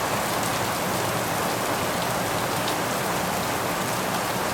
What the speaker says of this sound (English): That's what I'm talking about, a downpour.